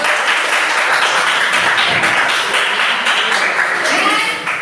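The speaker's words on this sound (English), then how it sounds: "Keep applause for Pedro" A classroom of students applauds a classmate, with continuous close clapping from many hands holding steady before tapering slightly at the end.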